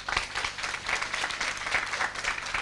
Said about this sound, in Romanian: Să o aplaudăm la regia tehnică, DJ Lili,